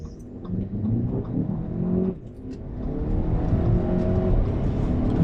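An Audi A4 B8 2.0T Quattro accelerates on a quarter-mile run, its engine note climbing steadily as it pulls, dropping briefly at a shift, then rising again at a moderate level as heard from inside.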